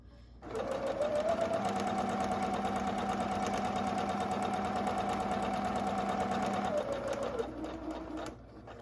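A sewing machine runs a seam in one continuous, steady burst of fast, even stitching, starting and stopping cleanly, close and moderately loud with no talk.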